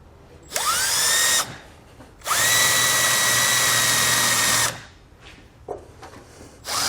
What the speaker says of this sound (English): Then I'm going to secure it to our chassis using the included self-tapping screw.